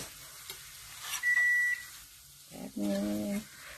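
Scrambled eggs with milk sizzle in a pan as a spatula scrapes, with short electronic beeping tones cutting in over the quiet frying.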